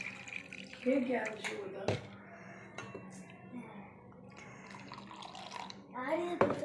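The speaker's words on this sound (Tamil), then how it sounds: "இப்போ அரைச்சி எடுத்ததை அப்படியே ஒரு வடிகட்டியில் ஊற்றி வடிகட்டி எடுத்துக்கிடலாம்" Ground pani puri mixture with tamarind water poured through a strainer, giving soft liquid splashing with clinks of utensils against a vessel, under intermittent talking.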